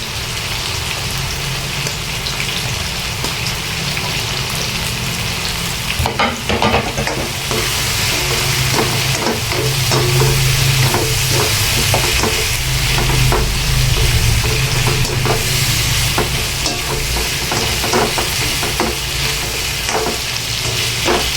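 Mixed vegetables with chayote being stir-fried in a pan for lunch: a loud, continuous close-up sizzle like heavy rain, with repeated scraping strokes of a spatula throughout.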